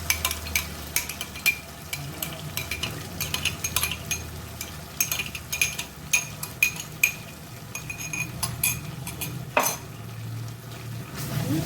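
Cauliflower roast masala with yogurt being stirred in a pan, a spatula scraping and clinking repeatedly against the metal over a soft sizzle, close and fairly busy, no talking.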